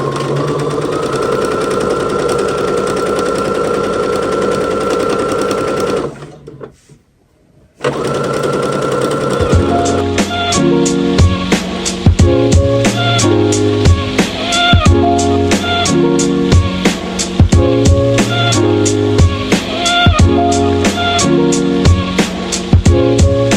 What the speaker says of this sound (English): And now I'm just going to sew this together.